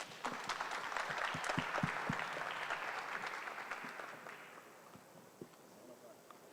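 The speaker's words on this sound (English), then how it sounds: "So truly, a round of applause for all of you." Audience applause at a conference closing ceremony, a steady wash of clapping that swells then gradually thins out, moderately distant, with a few isolated claps near the end.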